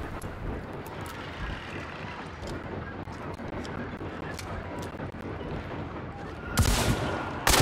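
Pistol shots in the Hunt: Showdown game, a couple of sharp loud cracks near the end after a stretch of dense game ambience and movement noise.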